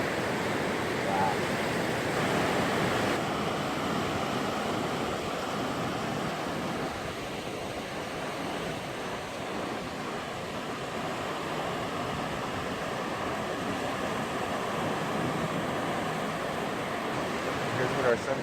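Ocean waves break on the shore at sunset in a continuous, moderately loud wash of surf, with some wind noise and no clear individual crashes.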